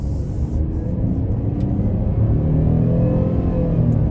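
A 2023 Chevy Traverse LT engine revving under quarter throttle toward almost 5,000 RPM while driving produces a steady, close cabin rumble and drone with a slight rise in intensity toward the end.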